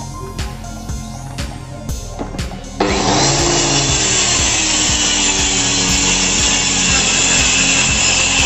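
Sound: sawing a wooden bed beam to 6 feet length

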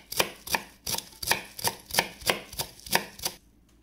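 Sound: chopping spring onion

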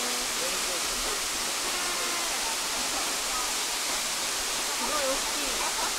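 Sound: Minoh Waterfall in Osaka

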